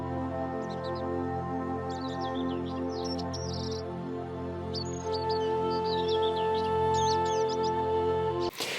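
Small birds chirp and tweet in quick bursts over a steady low hum, the calls coming in clusters throughout before an abrupt cutoff.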